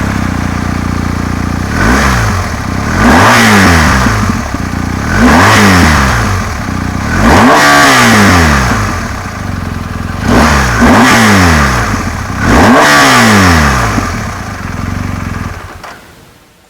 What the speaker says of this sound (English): the best part about this motorcycle is not just the engine, it's the exhaust note from this engine